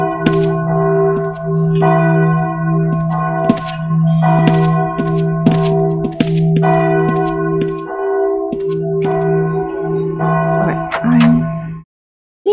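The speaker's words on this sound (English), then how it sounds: "Church bell." A church bell in the Ultima Online video game tolls repeatedly, loud and resonant with a long ringing sustain, strikes overlapping in a steady rhythm before cutting off abruptly near the end.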